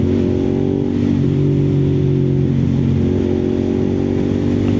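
A Suzuki SV650 V-twin motorcycle engine drones steadily while riding in fourth gear, a loud, even low rumble with constant pitch and no pauses.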